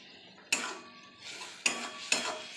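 Spices (cumin, turmeric and chili powder) are stirred and fried in a pan for Bengali ghugni, a metal spoon scraping and clanking against the pan three times over a soft, steady sizzle, close and alone.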